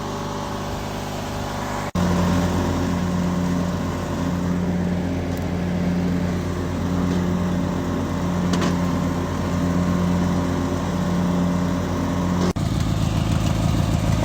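A Craftsman YT3000 lawn tractor with a replacement engine runs loud and steady nearby, a constant droning hum with a sharp click shortly after the start, and a shift in engine pitch near the end.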